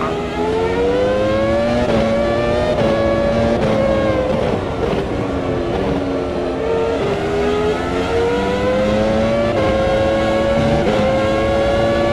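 Formula One cars racing at the 2002 US Grand Prix, Jaguar and Toyota among them, a loud close high-pitched engine wail rising and falling through gear changes and throttle lifts, continuous and unbroken, with no voices.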